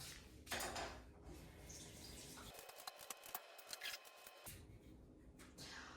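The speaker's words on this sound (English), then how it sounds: "Let's wash this now." Tap water runs steadily over a potato being washed in a kitchen sink, a soft continuous splashing hiss with a few brief clatters and rubbing sounds in the middle, heard close with no talking.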